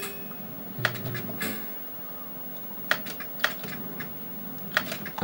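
Commodore 64 keyboard keys are pressed in scattered sharp clicks, some singly and some in quick pairs, close to the microphone over a faint hum from a pinball game, with no talk.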